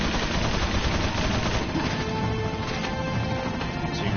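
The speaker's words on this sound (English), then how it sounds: "They will take rotating shots at you." Gunfire from enemies in Resident Evil 4, a dense, continuous crackle of shots and impacts that sounds like a rough, noisy barrage at constant loudness, with no talking.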